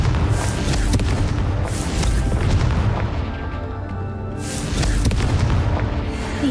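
A Confringo fire spell detonates in the Hogwarts Legacy video game, a loud booming blast that swells, eases off, and then surges again, with dense rumbling low end throughout.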